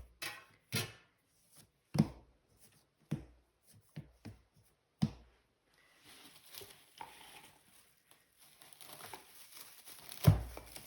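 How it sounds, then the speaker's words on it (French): Plastic cling film crinkles and crackles as it is pulled over resting balls of Moroccan chebakia dough, a string of short sharp rustles and snaps followed by a softer, continuous crinkling and one loud final crackle. "Je vais couvrir les autres pâtons d'un film alimentaire pour que ça sèche pas trop"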